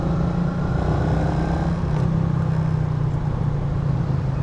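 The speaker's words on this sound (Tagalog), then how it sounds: "kahit 115cc lang tong motor ko na to" A stock 115cc motorcycle engine runs steadily at close range, a continuous loud drone with no clear revving or gear changes.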